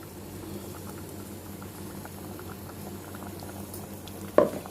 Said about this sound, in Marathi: याला व्यवस्थित उखळ येऊन देऊया